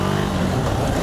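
The single-cylinder engine of a 2017 KTM 390 Duke runs on the road, a loud, steady, rough drone heard close up with wind noise and no talk.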